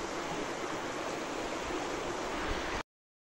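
Stream water rushing over rocks at Coto Mines, a steady close hiss of flowing water that continues evenly, then cuts off abruptly.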